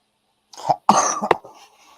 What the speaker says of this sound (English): I tried to mute it before I coughed.